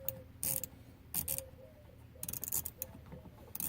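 A screwdriver turns a screw until it is tight while a Chevrolet Colorado key cylinder is being replaced. Faint ratcheting clicks and ticks come in short bursts and sit under a quiet background.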